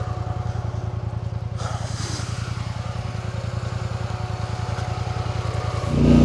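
A quad bike (ATV) engine runs steadily at close range while driving through storm-damaged forest to pull fallen trees, a continuous low chugging drone that rises slightly near the end.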